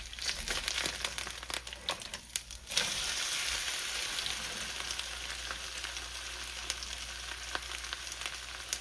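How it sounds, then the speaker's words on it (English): Thin potato slices sizzle and crackle steadily in a hot pan, a constant close frying hiss with occasional scrapes and crinkles of stirring, and no talking. "add potato slices. Now we fry it."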